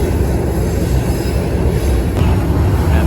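A TTC subway train with open gangways grinds through a sharp curve into Union station, a dense, steady rumble of wheels on rail with high metallic squealing heard from inside the car.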